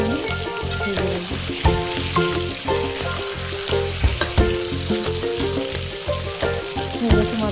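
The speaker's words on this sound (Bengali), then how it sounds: "এখানে সব মাছগুলো কিন্তু আমি ভেজে নেব" Pieces of fish frying in hot oil, a steady close sizzle with scattered louder pops and crackles throughout, alongside faint background music and no talking.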